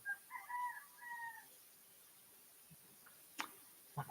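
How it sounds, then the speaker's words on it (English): A rooster crows once, faint and somewhat distant, followed by quiet and a couple of soft taps. "When the cock crows"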